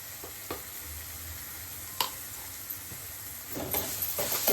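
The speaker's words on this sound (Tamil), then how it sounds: "போட்ட வெங்காயம் தக்காளி மசாலா எல்லாம் நல்லா வதங்கிச்சுப்பா" Onion, tomato and masala frying in oil for a goat head curry, a steady sizzle with occasional scrapes and knocks of a spoon stirring the pan, growing busier near the end.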